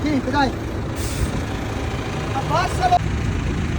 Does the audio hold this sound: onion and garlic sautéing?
no